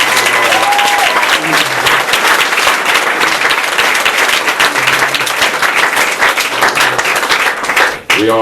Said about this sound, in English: Let's give her a round of applause for fighting for us